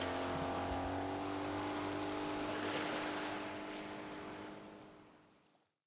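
A boat engine in a Sega Saturn sea bass fishing game drones steadily with a buzzy, motorbike-like hum, holding a constant pitch before fading out smoothly at the end.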